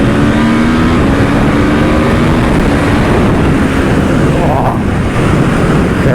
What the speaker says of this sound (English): That is beautiful sound, and that is a standard sounding pipe on the RSV4.